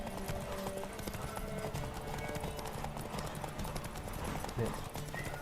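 Horse hooves clip-clopping in The Witcher 3 game, a steady run of hoofbeats under continuous game music and voices, with a brief whinny near the end.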